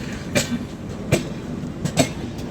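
Wheels of a packed local train from Titwala clatter over rail joints as it pulls into a station, with sharp rhythmic clacks about every three-quarters of a second over a steady rumble.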